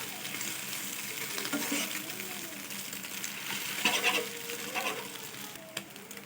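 Small pieces of egg for egg manchurian fry in a pan with a continuous close sizzle, broken by occasional scrapes and light clinks as they are stirred.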